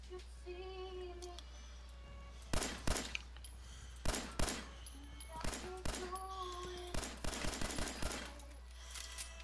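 Pistol shots at a firing range crack out in quick pairs and short bursts, loud and sharp over a steady low hum, with scattered clinks and faint tonal beeps between the shots.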